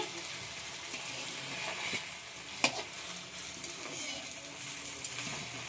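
Pantua sweets fry in hot oil on lowered heat, giving a steady, even sizzle throughout with one brief sharp clink near the middle.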